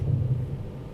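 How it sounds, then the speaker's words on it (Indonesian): A thunder sound effect plays during a school stage play, a heavy low rumble that rolls steadily and fills the whole moment with no voices. "tiba-tiba terdengar suara petir dan turun hujan"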